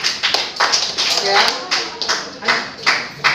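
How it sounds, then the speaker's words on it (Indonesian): Students in a chemistry classroom clap for a group that has just presented, a short burst of scattered, uneven claps from a modest number of hands, close and fairly loud, with a brief spoken word. "Tepuk tangan untuk kelompoknya Han"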